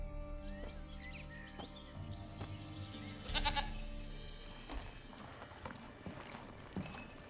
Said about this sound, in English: His goat lives inside the house.